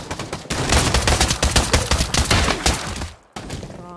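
Rapid rifle gunfire in the VR shooter Pavlov, a dense run of loud, close sharp shots over about three seconds, then a brief gap and more firing.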